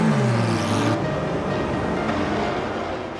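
Endurance race cars, Porsche, Audi and Toyota prototypes, roll off on a formation lap at the 6 Hours of Bahrain, a broad steady engine roar that opens with a low rising note and then holds as a dense continuous drone.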